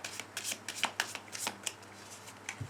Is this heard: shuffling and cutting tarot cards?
yes